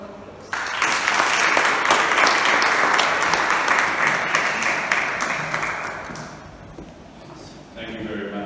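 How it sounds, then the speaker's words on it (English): Audience applause at a parish talk on Catholic parents, a loud sustained burst of clapping from a full hall that swells, holds steady, then slowly tapers off. "Please welcome Robert with a big round of applause."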